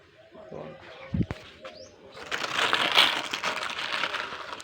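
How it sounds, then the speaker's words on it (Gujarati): Sparrows and other birds gather at scattered grain, with pigeon-like coos and chirps over a faint outdoor bed, a sharp thump near the start, then a louder rustling, busy stretch of pecking and fluttering. "મસ્ત મજાના ચકલા દાણા નાખી દઈએ,"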